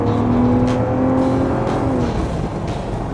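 A Range Rover's straight-six engine pulls away under throttle, its loud revving note climbing steadily over about three seconds, with no voices.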